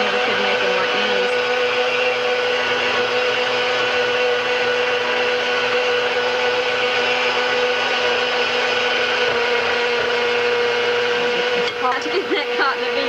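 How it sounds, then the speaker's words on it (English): An electric kitchen mixer beats sugar cookie dough loudly and steadily for the whole stretch, a constant whirring drone. The motor note shifts slightly near the end. "Turn your mixer down so that it doesn't fly all over the kitchen."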